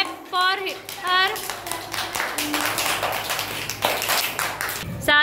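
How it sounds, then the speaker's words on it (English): Children in a classroom clap for a classmate after a colour-identification turn, a brief burst of scattered hand claps mixed with young voices and an adult speaking. "Clap for her."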